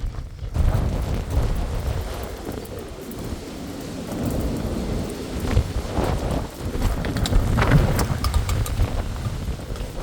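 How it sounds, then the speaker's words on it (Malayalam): Strong gusty wind during Storm Eowyn in the UK, buffeting the microphone with a deep rumbling roar that surges and eases in waves, loud and close throughout, with no talk. "ഭയങ്കര കാറ്റാണ്."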